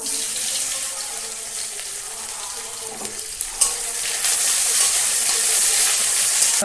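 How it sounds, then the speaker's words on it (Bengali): Cumin seeds, a bay leaf and garlic sizzle in hot oil for a fish-head taro-leaf curry, a steady broad hiss that swells slightly louder toward the end, with no talking. "তেল গরম হয়ে গেছে ফোড়নে জিরে দিয়ে দেবো একটা তেজপাতা দিয়ে দেবো রসুন"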